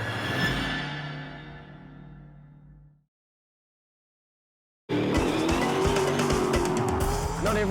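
A V8 Supercar spins off the track during a racing showdown, with engine roar and screeching tyres that fade out into silence, then a loud engine and tyre squeal burst back in after a gap.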